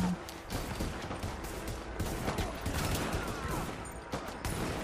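Marksman rifle gunfire in Tom Clancy's The Division, a dense run of sharp shots and overlapping battle noise that stays loud from start to finish, with no talking over it.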